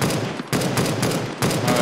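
Heavy machine gun firing in Counter-Strike: Global Offensive, loud close bursts of rapid rattling fire broken by two brief pauses.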